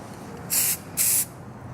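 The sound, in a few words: spray painting a washer on a bolt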